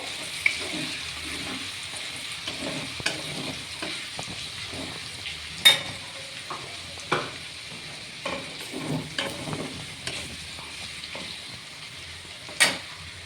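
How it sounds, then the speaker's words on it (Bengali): Garlic frying in a pan until lightly browned for a yogurt chicken dish, a steady soft sizzle broken by scattered sharp clicks and scrapes of stirring, close and alone without voices. "হালকা লাল লাল করে একটু ভেজে নিতে হবে।"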